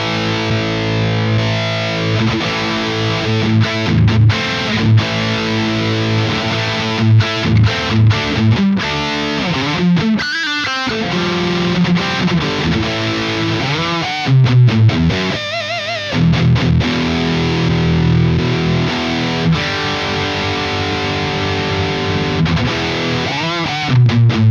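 Electric guitar through a Seymour Duncan 805 overdrive pedal, a take on the classic TS808 design, playing gritty driven chords and riffs with occasional pauses, loud and close with no voices.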